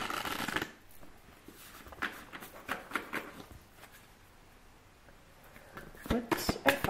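Tarot cards are shuffled during a reading: bursts of riffling and flicking at the start and end, with softer intermittent card slaps in between, close and fairly quiet.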